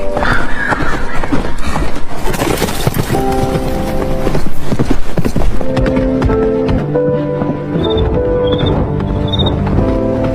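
A horse neighing over steady clip-clop hooves in a Western story, loud and continuous and mixed with dense music and other movement sounds.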